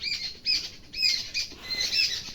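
Small birds near a Himachal hillside home give short, high squawks and chirps in quick repeated bursts, fairly faint and with no talk.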